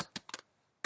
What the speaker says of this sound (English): I'm typing some caps and some small